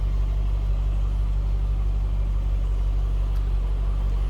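A 2003 Chevrolet Corvette 50th Anniversary coupe with stock exhaust idles steadily, a low, smooth, even rumble close by with no revving.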